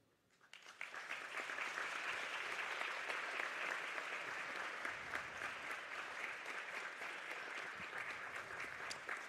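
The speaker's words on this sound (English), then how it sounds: "Round of applause for Sarah Shear" A crowd at a high school women's varsity basketball game breaks into applause that swells within the first second and continues as dense, sustained clapping, fairly distant and even.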